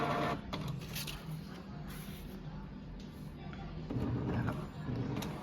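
Brother DCP-J100 inkjet printer running a print head cleaning cycle, a steady close mechanical whir with shifting motor tones and clicks, continuous throughout.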